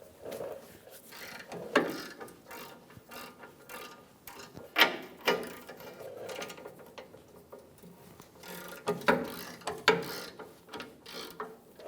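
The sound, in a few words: ratchet with 21 mm socket removing bumper impact absorber nuts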